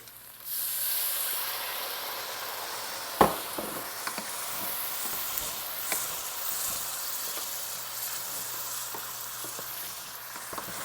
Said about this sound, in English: And now we're gonna add the wine and mix it in together and scrape off the bottom.